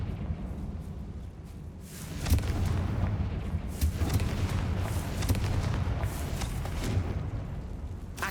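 In Hogwarts Legacy, a cast Confringo fire spell sets off a heavy explosive boom inside a tomb, followed by rumbling blasts and crackling impacts that carry on for several seconds.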